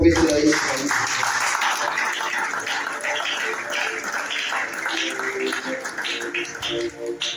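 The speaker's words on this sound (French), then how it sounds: "Est-ce que tu peux quand même acclamer pour nous?" A church congregation at a Friday worship service applauds steadily, a dense, sustained wash of clapping and cheering that fills the room from start to finish.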